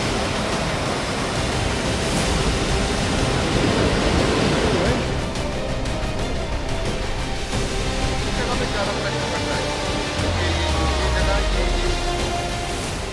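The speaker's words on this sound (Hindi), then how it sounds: "पानी का बहाव इतना ज्यादा तेज है कि ये जो छोटा ट्रक जिसे कहते हैं वो पानी में ऐसा बह रहा है मानो पत्ते की तरह" Fast floodwater surges in a steady, loud roar as a small truck is swept along by the current, with a low rumble briefly rising near the end and no clear talk.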